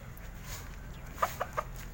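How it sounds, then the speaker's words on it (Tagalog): Chickens give a few soft, short clucks at close range, three brief calls in quick succession over low background noise, with no talking. "Andito tayo sa mga manok"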